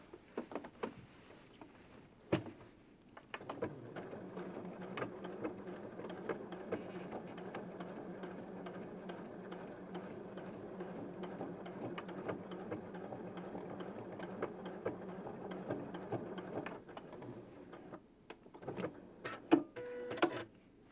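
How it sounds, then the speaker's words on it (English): A sewing machine runs a steady tack-down stitch on an apron, a quiet continuous whirring hum lasting most of the stretch, with small clicks at the start and end. "Okay, move that over, do this tack down stitch."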